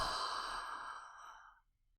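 One long, breathy exhale pushed out through the mouth as part of a breathing exercise. It is close and soft and fades to silence over about a second and a half.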